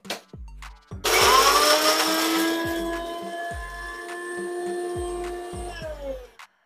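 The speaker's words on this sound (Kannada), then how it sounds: "ಹಸಿಮೆಣಸಿನ್ಕಾಯಿ, ಕೊತ್ತಂಬರಿ ಸೊಪ್ಪು, ಜೀರಿಗೆ, ಬೆಳ್ಳುಳ್ಳಿ, ಬೆಳ್ಳುಳ್ಳಿ ಒಂಚೂರು ಉಪ್ಪು ಸೇರಿಸ್ಕೊಂಡು ಗ್ರೈಂಡ್ ಮಾಡ್ಕೊಂಡು" A mixer grinder whirs loudly, grinding green chilies, coriander leaves, cumin, garlic and salt into a paste. It starts after a few clicks and runs as one sustained whine for several seconds before shutting off.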